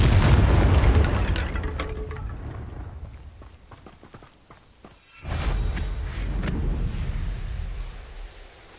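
Confringo fire spell blasting in Hogwarts Legacy: a loud booming burst up front that decays over a few seconds, followed by a second heavy rumbling blast surging in near the middle and holding as a roaring wash.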